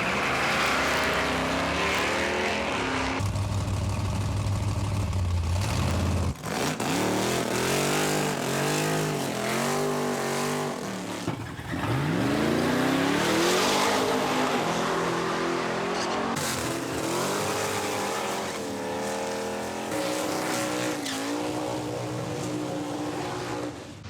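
Loud, roaring engines of drag racing cars at a Father's Day drags meet, accelerating hard with rising revs and gear changes, close and continuous throughout with no talk.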